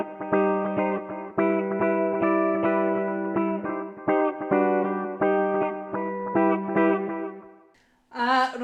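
Ukulele chords strummed through equalizer, reverb, delay and auto wah pedals ring out in a rhythmic run of bright, sustained strums with a wah sweep, then a brief pause and a warbling effected tail at the end.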